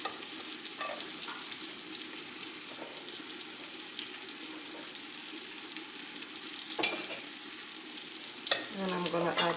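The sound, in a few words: carrots cooking in a pan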